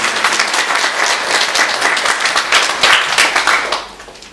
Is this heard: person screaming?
no